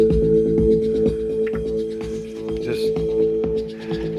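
Track sequenced on a Korg Electribe 2 driving hardware over MIDI, playing sustained synth chords over a steady, punchy beat, loud and close, with no one talking.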